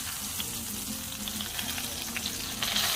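Pieces of chicken fried turkey fry over medium heat on a Blackstone griddle, giving a steady, close, crackling sizzle throughout that grows slightly louder at the end.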